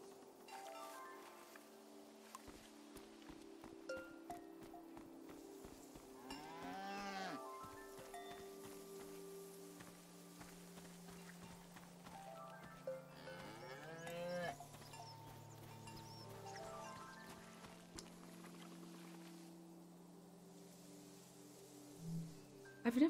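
Cows moo in the farm video game Season: A Letter to the Future, two long drawn-out lows rising over a steady ambient hum, fairly close and clear with quiet pauses between.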